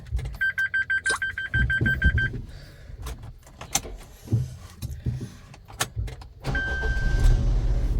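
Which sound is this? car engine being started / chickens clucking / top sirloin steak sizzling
car engine being started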